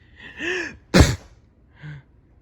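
A single sharp sneeze bursts out between quiet breathy vocal sounds, close and brief, with a soft sigh after it.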